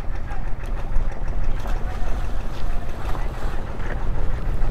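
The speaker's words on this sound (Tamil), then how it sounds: "பயங்கர காற்றாக இருக்கு" Strong wind gusts past a boat moored at a jetty on Nainativu island near Jaffna, a steady loud roar and buffeting close to the microphone with water and boat noise mixed in, no clear talk.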